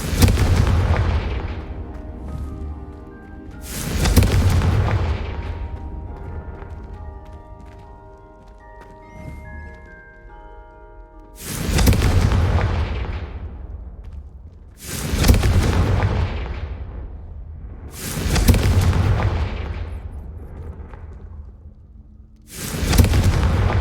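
Five loud, booming blasts from the Confringo spell in Hogwarts Legacy, spaced several seconds apart, each a sharp explosive hit that fades over a couple of seconds, with faint chiming game tones between them.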